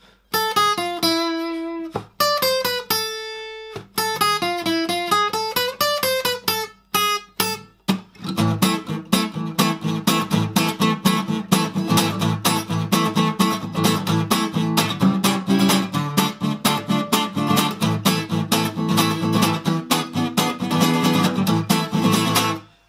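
Plucked acoustic guitar picking out the intro of Bella Ciao, slow and sparse at first, then settling into a steady, busier strummed and picked pattern, played close and clear.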